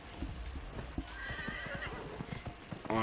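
Hooves clip-clop in a quick galloping rhythm from a horse in the Dragon Age Inquisition video game, with a whinny partway through and game ambience beneath, moderately close and fairly quiet.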